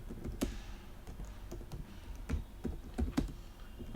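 Typing on a computer keyboard while entering text into an Excel spreadsheet, a close run of soft irregular key clicks with short pauses between bursts.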